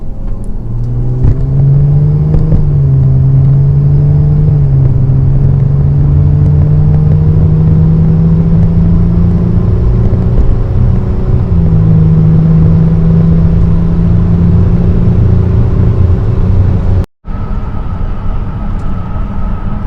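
A tuned Audi Q7 TDI with a Malone Stage II tune pulls hard from 30 in sport mode, heard from inside as a loud, steady diesel drone that climbs in pitch, steps down at gear changes and rises again.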